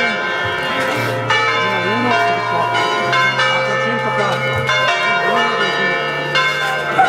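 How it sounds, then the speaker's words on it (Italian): Church bells ring loudly and continuously in Borgomanero, Italy, several bells overlapping in a rich, clanging peal with sustained tones. "Accompagnati anche con il suono delle campane"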